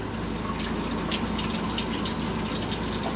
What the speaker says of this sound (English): I'm just going to add a little bit of hot water to fill up the can almost all the way one time